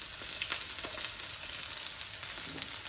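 Chili and diced onion sizzle steadily in a pan for Gobi manchurian, with faint scrapes of stirring poking through the continuous hiss, close and moderately loud with no talking.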